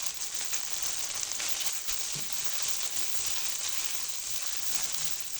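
Spice paste with salt and turmeric frying in hot oil in a pan for a fish recipe, a steady close sizzle and crackle that holds loud and even throughout, with no talking.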